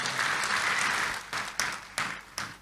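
A church congregation applauds during a Sunday sermon, a sustained wash of clapping that thins out and ends in a few scattered, distinct claps.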